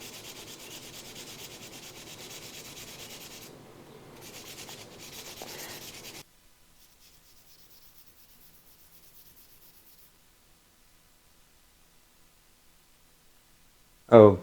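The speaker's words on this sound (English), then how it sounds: "If it's topical rust, it's removing it. I'm just going to keep rubbing and rubbing." Rubbing surface rust off a firearm, a steady soft scrubbing that runs continuously for several seconds before stopping, followed by near silence and a brief loud knock at the end.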